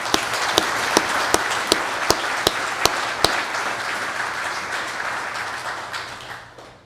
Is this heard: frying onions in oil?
no